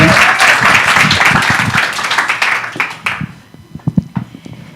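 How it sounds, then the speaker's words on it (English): An audience gives warm applause for a storyteller at a live story event, dense clapping that swells and then thins out after about three seconds into a few scattered claps and soft room noise. "Please give her a round of applause."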